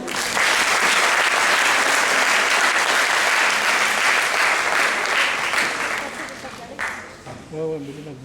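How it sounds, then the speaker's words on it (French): Loud, dense audience applause fills a hypnosis show hall, sustained and even for several seconds before tapering off as a voice starts talking near the end. "On peut les applaudir?"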